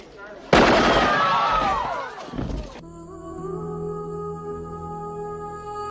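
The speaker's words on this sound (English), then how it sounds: "Michael Ironside and the science police start shooting up the place." Gunfire and a burst of explosive chaos from a shootout scene in the Total Recall film come loud and dense for about two seconds. They then give way to a sustained droning tone.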